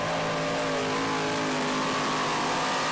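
Twin Hemi engines with 14-71 superchargers on a tractor at a pro pulling event rev hard and steady, a loud, dense mechanical roar holding on without a break.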